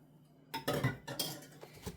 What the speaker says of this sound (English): I'm going to add that right to our butter mixture.